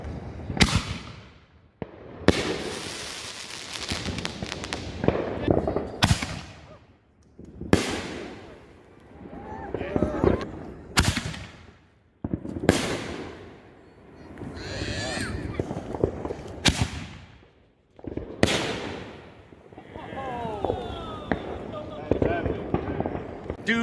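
During a backyard Fourth of July show, 5-inch Barely Legal fireworks go off in repeated loud thumping launches and bursts about every two to three seconds, each trailing into crackling. People talk between the shots.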